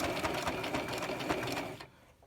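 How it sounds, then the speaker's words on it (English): A sewing machine runs a zigzag stitch around the edge of a towel for reusable baby wipes, a close, steady rapid whirring with a pulsing rhythm for almost two seconds before it stops. "Go ahead and back stitch, and then you are just going to the edge as close as possible"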